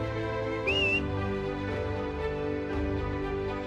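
A brief whistled note rises out of a dense musical background, short and clear, then fades as the music continues.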